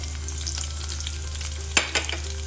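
Chopped onion frying in oil in a pan, a steady close hiss with a few brief crackles and pops near the end, under a low constant hum.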